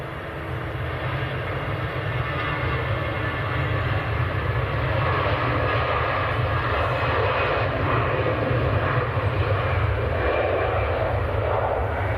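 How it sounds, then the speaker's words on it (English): Two Aer Lingus retro-liveried airliners taxi out together at Manchester Airport at dusk, their jet engines producing a steady, loud, continuous roar throughout. "Two Aer Lingus retros taxiing out together."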